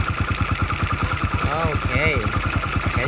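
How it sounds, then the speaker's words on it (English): A 1995 Honda motorcycle engine runs steadily after repair, a fast regular idle-like chug with constant thumping pulses filling the whole stretch, close by, while someone talks over it. "This is how the engine is working"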